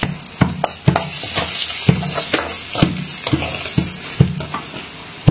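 Fenugreek seeds, asafoetida and crushed garlic sizzle steadily in hot oil, with sharp rhythmic clinks of a spoon stirring the pan every half second or so, loud and close.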